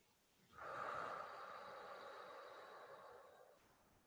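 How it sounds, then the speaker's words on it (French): A single deep, drawn-out breath during a guided relaxation exercise, a soft, close airy inhale-exhale lasting about three seconds, heard alone and quietly. "Et faites 3 respirations bien profondes."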